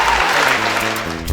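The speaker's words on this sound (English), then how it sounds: "Clap your hands together for yourself." An audience at a tutoring session claps together in a dense, steady burst of applause, loud and close, with no voices over it.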